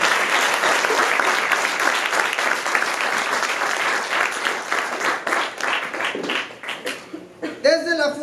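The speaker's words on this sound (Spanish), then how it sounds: "¿Alguien puede dar un aplauso a Jesús?" Wedding guests at a church ceremony break into sustained applause, many hands clapping densely and steadily before thinning into scattered claps, with a voice speaking at the very end.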